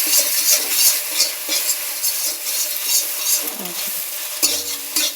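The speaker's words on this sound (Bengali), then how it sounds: "এবার ডিম কটা ঝুরি ঝুরি করে ভেজে নেব।" Eggs scrambled and fried in oil in a hot wok, a continuous loud sizzle with repeated scraping and stirring strokes of a spatula against the metal, close up and without voices.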